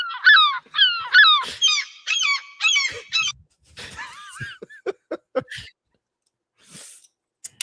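Played recording of a bird squawking in a panic, a rapid run of loud harsh harmonic calls followed by scattered sharper chirps and clicks fading into quiet.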